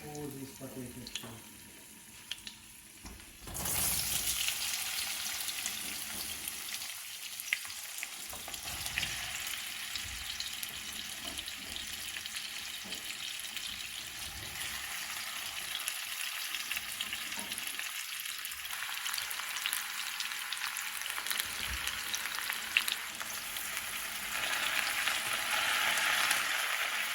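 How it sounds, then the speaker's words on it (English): Sliced potatoes hit a hot pan for Russian-style fried potatoes. After a quieter start the sizzle bursts in and keeps crackling steadily, with occasional stirring noises. "so this is hot right now, and we'll put all these potatoes here"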